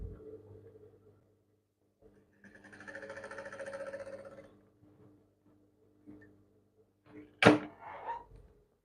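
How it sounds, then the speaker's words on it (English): A sewing machine stitches the sleeve of an off-shoulder gown, giving about two seconds of steady, moderately loud whirring. Quieter handling noises follow, then a sharp clunk near the end. "So let me stitch it before I explain."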